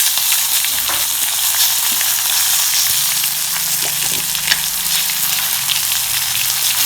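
Curry leaves sizzle in hot oil in a pan while cooking a ridge gourd kadayal, a steady loud frying hiss running throughout with small crackles and occasional stirring sounds, no voices.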